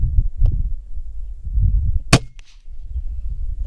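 An FX Impact M3 .25 air rifle fires a single sharp crack at a ground squirrel, followed a moment later by a faint impact tick, with low rumbling wind noise before and after.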